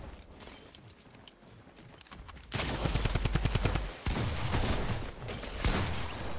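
Bursts of rapid Thompson submachine gun fire in a battle royale video game, quiet at first, then loud close rattling volleys with brief pauses between strings of shots.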